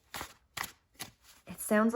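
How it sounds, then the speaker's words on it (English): A thick tarot deck is shuffled in a few soft, muffled riffling bursts close to the microphone, then a voice begins speaking at the end. "It's not the easiest to shuffle necessarily, but because it's so thick, when you shuffle it, it sounds like"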